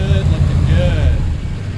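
Engine of a heavy wrecker tow truck at an off-road wrecker event, a steady loud low rumble with a faint whine on top, heard under continuous nearby talk.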